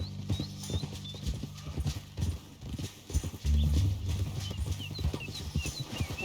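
Horse hooves clip-clop steadily at close range in Red Dead Redemption 2, with a horse whinnying and snorting and birds chirping in the background.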